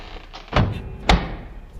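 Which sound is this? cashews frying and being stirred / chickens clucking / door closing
door closing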